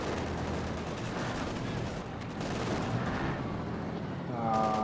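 Sustained, dense gunfire from an M3 halftrack strafing in Company of Heroes, a loud continuous rattle of shots that fills the whole stretch with no pauses.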